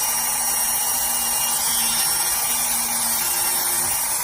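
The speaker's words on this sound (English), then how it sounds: "A lot of the time I'll use the tip of the burr because it's just easier." A podiatry rotary burr grinds an ingrown toenail, giving a steady, close, high-pitched whine with a faint tonal hum underneath, unbroken and alone for the whole stretch.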